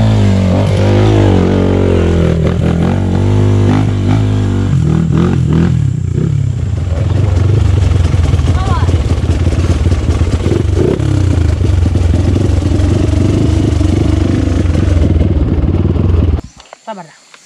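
Trail motorcycle engine idling and revving with a rough, clattering note, running steadily and loud nearby, then cutting off abruptly near the end.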